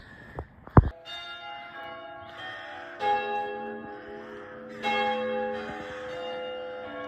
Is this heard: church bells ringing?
yes